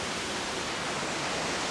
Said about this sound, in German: Der Wasserfall hört man auch schon die ganze Zeit rauschen.